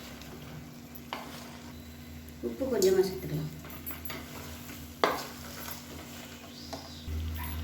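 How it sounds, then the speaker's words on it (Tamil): Potato and soya chunks being stirred and sautéed in a pan, with a soft sizzle and occasional spoon scrapes and clinks against the metal, under a person speaking. "இப்போ இது எல்லாத்தையும் நல்லா வதக்கியாச்சு."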